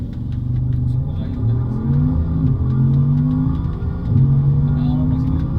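A fast car, apparently a Tesla Model S Performance, pulls hard with a continuous low rumble and rising whine heard from inside the cabin, steady throughout with faint voices underneath.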